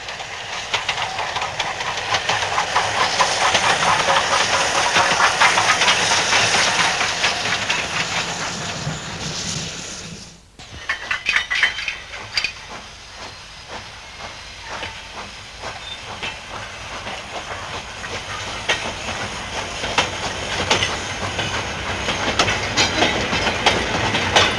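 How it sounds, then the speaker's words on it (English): Steam locomotive Oliver Cromwell running light: a loud, continuous roar of steam hiss and rumbling wheels with rhythmic clickety-clack. It drops briefly about midway, then returns slightly softer and rattling. "Oliver Cromwell then ran light to Bressingham Steam Centre to retire from active service."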